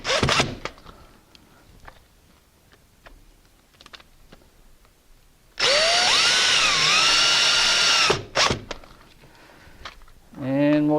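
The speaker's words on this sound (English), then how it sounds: "we're just going to put our screws back in the holes that we drilled" A power drill drives screws into a door strike plate, whirring in one loud sustained run with a rising and falling pitch, then a shorter burst, amid quiet handling clicks and rustling.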